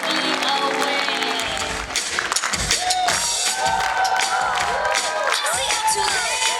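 An audience claps and cheers at a stage show, dense applause with shouts and whoops rising over music, lively and close throughout.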